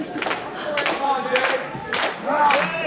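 A wrestling crowd at an EPW event cheers loudly in repeated bursts, with clapping and shouting swelling and fading in waves throughout.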